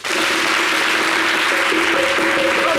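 A television studio audience applauds a young woman on a variety show, a continuous wash of clapping with a faint tone running beneath it.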